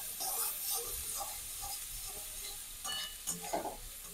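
Onions frying in a pan with salt and turmeric give a soft, low sizzle with occasional stirring scrapes and clinks, fairly quiet and close.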